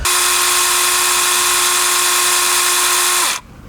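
A cordless TEMU chainsaw runs at steady high speed for an oil-feed test aimed at cardboard, a loud continuous whine that cuts off abruptly near the end.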